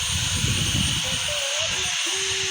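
A steady low motor trawler engine drone chugs throughout on the Padma River, with broad hiss above and a faint whistling tone drifting in partway.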